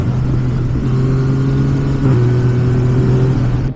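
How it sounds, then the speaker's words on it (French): A motorcycle revs up under acceleration, captured on an Insta360 One R camera through a Rode SmartLav Plus microphone: a loud, close, steady engine drone with rising tonal whine and a brief shift midway, no talk. "Je vais vous faire une petite accélération pour vous montrer comment on entend la moto"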